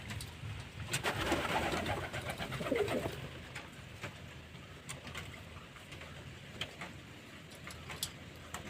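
Pigeons drink water and coo softly close by amid light rustling and small ticking sounds, louder at first then quieter.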